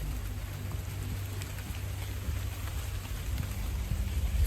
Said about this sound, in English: It'd be just the rain anyway.